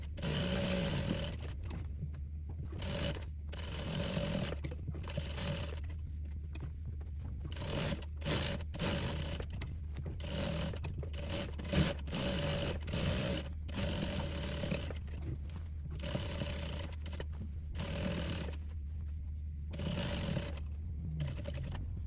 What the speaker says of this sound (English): So I'll go to the sewing machine now.